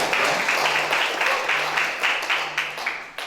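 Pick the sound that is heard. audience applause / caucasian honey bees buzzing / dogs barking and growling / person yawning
audience applause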